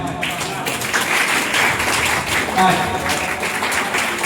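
A group of elderly home residents and staff at a fun activity applaud together, dense continuous clapping close by, mixed with voices and laughter.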